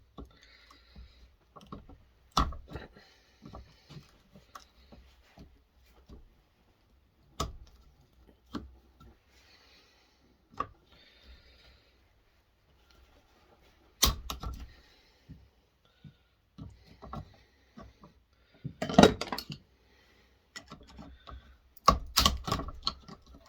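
Cutting tools snip parts off a Bosch electric mixer being scrapped for copper and stainless steel, giving sparse, sharp clicks and snaps with quiet gaps and a few louder cuts near the end, with no talking.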